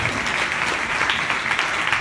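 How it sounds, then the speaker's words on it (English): A crowd at a careers and wellbeing event claps in a brief, even burst of applause, many hands blending into a continuous bright patter at moderate loudness. "so a round of applause for her"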